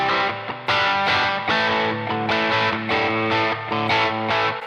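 Electric guitar played through an Oxford cabinet simulation on a UAFX pedal, a loud distorted tone with sustained ringing chords struck in a steady sequence, alone without talk.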